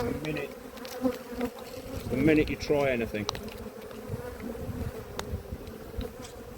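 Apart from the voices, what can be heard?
bees buzzing around head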